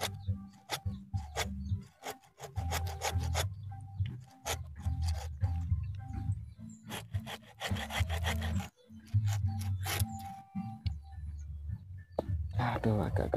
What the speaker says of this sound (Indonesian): Coba saya ganti gergaji yang lain.